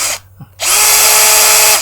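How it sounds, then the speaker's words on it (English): A standard handheld power drill whirs up to maximum speed after a brief pause, its loud, steady motor whine holding close and alone with no talk. "So let's get a drill here. It's just a standard drill."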